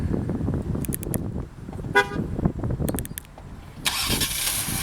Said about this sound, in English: I'm going to do the remote start again here